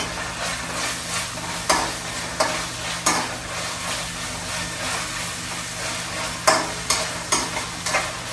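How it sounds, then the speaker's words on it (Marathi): Ginger garlic paste sautéing in a pan for a masoor lentil biryani, with a steady close sizzle and occasional sharp scraping clicks of a utensil stirring, no voices. "आलं लसूण पेस्ट टाकत आहे, चांगली परतून घेऊ।"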